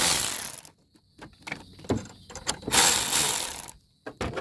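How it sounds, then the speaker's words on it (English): Ratchet wrench with a deep 10mm socket, used during a motor mount replacement on a 2013 Honda Civic, gives off bursts of rapid close clicking, two long runs and a few shorter ones separated by pauses. "you know what makes this job easy? Wrench and a deep 10mm socket wrench."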